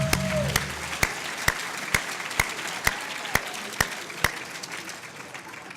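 Audience applause at a small business awards event for the band, a sustained wash of crowd clapping punctuated by sharp, evenly spaced loud claps or beats about every half second.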